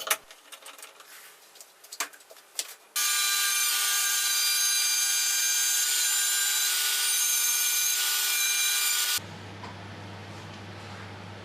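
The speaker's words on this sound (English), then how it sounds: "I clamped down two of the MDF pieces and some OSB scraps and cut the blade opening." A circular saw plunges up through a table to cut a blade opening in clamped MDF and OSB scraps, starting after some light handling knocks with a loud, steady, high-pitched whine that holds for about six seconds, then cuts off into a low hum.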